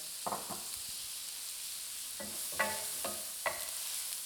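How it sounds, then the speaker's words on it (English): Chopped onions sautéing over medium-low heat with flour for a roux, stirred with a wooden spoon in a pan, giving about six short scraping strokes over a soft, steady sizzle. "Something about the wooden spoon in the pan. Get them sauteed down really nice on medium to low heat."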